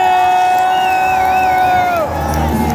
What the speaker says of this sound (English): I want everybody to give a round of applause for Vice President Boyer.